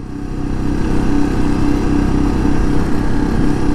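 A Suzuki DR650 motorcycle engine runs steadily at high altitude, about 10,000 feet, and is slightly down on power. It gives a loud, close, continuous single-cylinder drone with a constant throbbing idle and no rise in revs.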